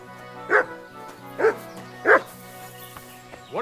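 A dog in Kingdom Come: Deliverance II gives three short, distinct barks spaced about a second apart, loud and close over a quiet bed of steady musical tones.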